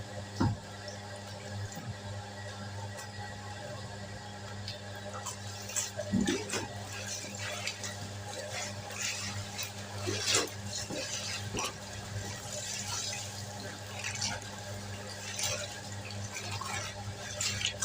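Water runs and splashes steadily with a low hum underneath as clothes are rinsed by hand, punctuated by occasional louder sloshes and clatters nearby.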